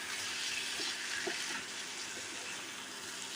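Egg frying with sweet pumpkin in a pan as it gets stirred, a steady close sizzle with a few soft scraping stirs across the surface.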